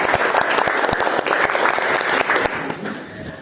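Students and audience clap after singing the Indonesian national anthem, a dense, close burst of many hands with sharp individual claps standing out, tapering slightly near the end.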